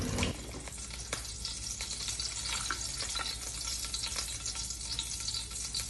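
Eggs fry sunny side up in a hot pan for a breakfast of eggs and hotdogs, a steady close sizzle and crackle with scattered spatter pops that runs without a break and with no talk.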